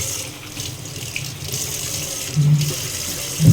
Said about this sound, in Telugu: సో ఫస్ట్ అయితే హ్యాండ్ వాష్ చేసేసుకున్నాం